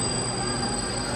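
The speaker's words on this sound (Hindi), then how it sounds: "यहाँ पे शंघाई की मेट्रो" A Shanghai metro airport line train runs loud and close, with steady rumble and a high, sustained wheel squeal throughout.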